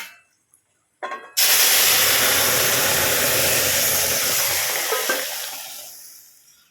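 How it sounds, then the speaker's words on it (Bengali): Pieces of fig, boiled with a little sugar, hit a hot frying pan with a sudden loud sizzle that holds as a steady close hiss, then gradually fades away. "সেদ্ধ করলাম দিয়ে পরে এরকম করে ভাজছি"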